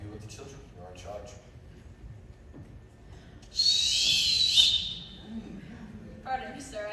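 A captain's whistle shrills during a live stage performance of The Sound of Music, one sustained high blast lasting over a second that stands out over ongoing talk and stage noise.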